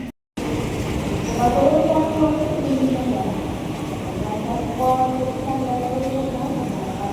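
A passenger train hauled by a vintage CC 201 diesel locomotive, the Kaligung from Semarang, rumbles steadily along the tracks with a low continuous drone and engine hum, while a voice talks faintly over it.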